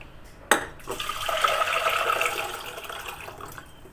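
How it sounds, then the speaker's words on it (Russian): A sudden splash followed by a steady stream of water pouring into a pot of rice, continuing for a few seconds with no talking. "И сейчас я залью водой."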